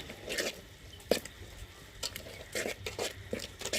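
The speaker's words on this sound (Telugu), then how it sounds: "మొత్తం కలదిప్పేసుకున్నాం." Spiced fish curry with chilli powder, turmeric and salt being stirred in a pot, with intermittent scraping and clinking of a spoon against the pot in short irregular bursts, close and fairly quiet.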